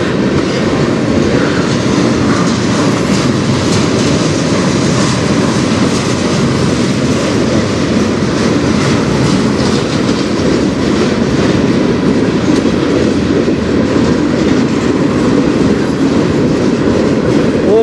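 A freight train with auto rack cars rolls past close by, a loud continuous rumble and rattle of wheels on track with rhythmic clatter, steady throughout with no talking.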